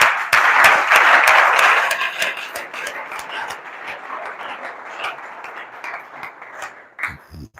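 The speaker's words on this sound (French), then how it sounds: "On acclame très fort pour l'Éternel." A worship congregation claps and applauds loudly at first, then the clapping thins into scattered, uneven claps before fading near the end.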